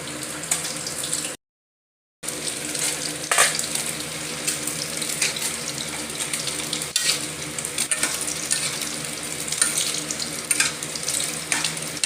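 Taro curry bubbling and sizzling in a covered pot as fish is added, a steady simmering hiss with occasional stirring clinks, close by, with a brief silent gap early on.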